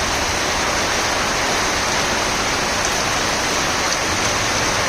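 Steady, heavy rain pours down without a break, a dense even hiss that fills the whole clip.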